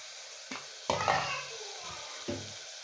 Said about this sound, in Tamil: பட்டை, கிராம்பு, பிரியாணி இலை, ஏலக்காய் எல்லாம் போட்டு நல்லா வதக்கணும்